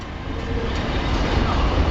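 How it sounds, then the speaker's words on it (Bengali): A double-stack container freight train rumbles past nearby, a steady broadband roar filling the whole stretch without breaks. "এই দিক দিয়ে আরেকটা ট্রেন যাচ্ছে দেখুন"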